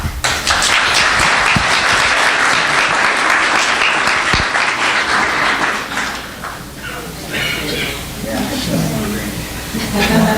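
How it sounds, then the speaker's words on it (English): An audience applauds after a keynote speech at a conference, giving dense, sustained clapping that fills the clip. It eases slightly midway and then swells again. "Another big round of applause for Margot"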